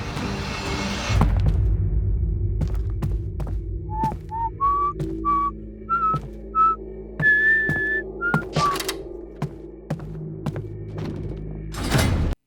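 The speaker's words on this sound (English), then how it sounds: "Mbappé starts whistling the French national anthem" A person whistles the French national anthem in an animated football cartoon scene. The tune comes in short clear notes over a low room hum, mixed with scattered thumps and knocks, and no one speaks.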